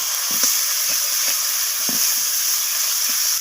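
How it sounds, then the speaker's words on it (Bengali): Onion, tomato, ginger, garlic and spices sautéing with salt in a pan give a steady, loud sizzle, broken by soft scraping stirs of a spoon at irregular intervals, close up and with no speech. "তো লবণটা দিয়ে আমি আবারও কষিয়ে নিচ্ছি এইভাবে"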